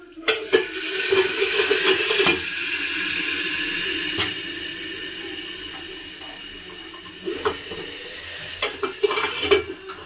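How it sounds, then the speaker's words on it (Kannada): Hot oil sizzling loudly and steadily as spices crackle in a tempering, with a few sharp clanks of a spoon against the pan at the start and end. "ಕೊಡ್ತೀನಿ ನೋಡಿ ಒಗ್ಗರಣೆ"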